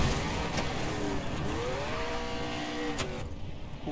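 A car speeding along in the video game Far Cry 3, a steady engine drone with rising and falling pitch as it accelerates, loud and continuous with no talk.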